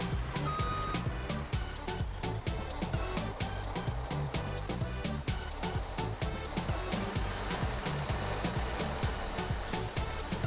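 A truck reversing in Farming Simulator 17, with steady evenly spaced backup beeps repeating over a continuous engine drone, clear and constant throughout.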